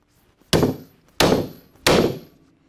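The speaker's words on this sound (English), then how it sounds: "you can hear after that third hit that those rivets have bottomed out on the tool" Three sharp hammer blows setting Flexco BR rivets into a solid plate installation tool, evenly spaced, each a loud close metallic thunk with a short ringing decay.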